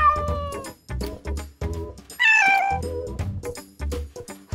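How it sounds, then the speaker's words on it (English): A cat meows repeatedly up close, a series of short loud calls with one longer, higher yowl in the middle. "Cats talk to each other with meows all the time."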